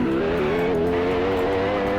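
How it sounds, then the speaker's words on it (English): A tuned Bugatti Mistral launches and accelerates hard on a track, its engine roaring loud and close with steady rising harmonics and a hint of tire noise, no voices over it. "just jump in the car and let's launch this thing in 3, 2,"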